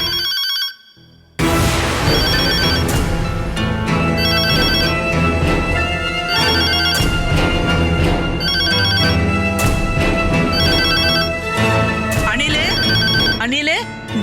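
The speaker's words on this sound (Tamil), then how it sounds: "போன் அடிக்கும் போது எடுக்கிறதுக்கு யாரும் வரமாட்டேங்கிறாங்க." A household telephone rings repeatedly in a Tamil TV serial scene, a loud, steady electronic bell pattern repeating in even bursts after a brief quiet start, with voices talking over it at times.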